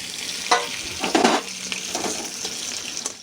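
Potatoes and brinjal frying in hot oil for a curry made without onion or garlic, giving a steady close sizzle with brief louder stirring bursts, and no talk.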